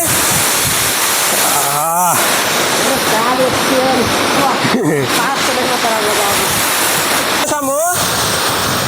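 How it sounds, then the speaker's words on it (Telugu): A hidden waterfall in the Kuppalavalasa area roars as a loud, constant wash of falling water, with voices speaking over it a few times. "వాటర్ ఫాల్ అయితే ఎలా ఉందో చూడండి"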